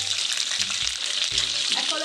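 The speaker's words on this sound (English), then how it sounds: "First, I'll be going in with the oil. The palm oil." Palm oil sizzles and fries steadily in a pan, a continuous bright crackle with a few soft scrapes of stirring, close and alone without speech.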